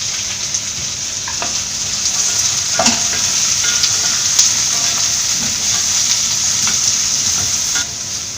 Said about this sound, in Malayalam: ഇനി ഇതിലേക്ക് ചെറിയുള്ളി ചേർത്ത് കൊടുക്കാം.